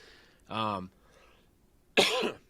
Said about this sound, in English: Sorry, I can't shake this cough.